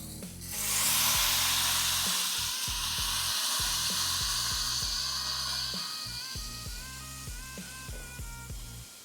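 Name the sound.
burger patty sizzling on griddle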